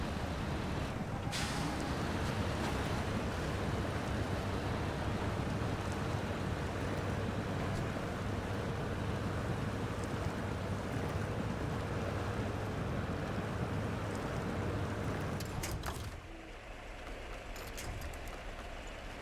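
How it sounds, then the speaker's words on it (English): A truck, the Royal BM17, plows through floodwater in a video game, a dense steady rush of churning water and wind-like noise under a low engine hum for most of the stretch, dropping off sharply near the end. "I'm actually gonna go down into the water here"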